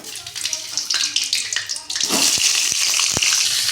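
Slit okra hits a pan of lightly oiled hot oil, raising a loud, steady sizzle with a few sharp pops, after brief speech at the start.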